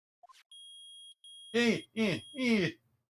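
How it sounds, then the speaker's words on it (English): A metal detector in the Phoenix Wright: Ace Attorney video game emits a steady, piercing electronic tone in two long beeps with a brief gap between them, and a voice starts talking over the second beep. "It's beeping! The metal detector's found something!"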